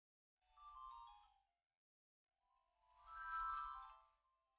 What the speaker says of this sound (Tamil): அம்மா போன் பண்றாங்க.